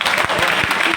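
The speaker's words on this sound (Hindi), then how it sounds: "तो एक बार तालियां बजा के सुनिए।" Audience at a live poetry reading clapping in a steady, dense burst that fills the whole moment, close and loud with no pause.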